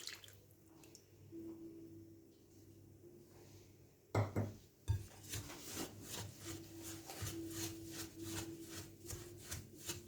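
A spoon scrapes and rubs through semolina moistened with melted butter in a bowl, a run of soft, gritty, rhythmic strokes close by after a quieter start with a couple of knocks.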